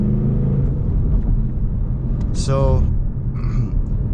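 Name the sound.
GT sports car engine rumbling while rev matching with clutch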